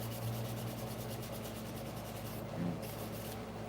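A carbon and nickel steel punch is rubbed against sandpaper by hand, giving a steady rhythmic scratchy rasping of back-and-forth strokes, close and moderately quiet.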